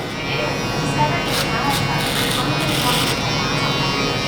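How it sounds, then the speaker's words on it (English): An electric hair shaver buzzes steadily and close during a barber's skin fade haircut, a continuous mid-level drone with light rubbing against hair and skin. "My finale shaver."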